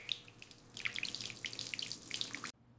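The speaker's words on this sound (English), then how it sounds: "I wash the apple." Running tap water splashes over an apple being washed at a sink, a steady close spatter with scattered drips that cuts off abruptly near the end, leaving quiet room tone.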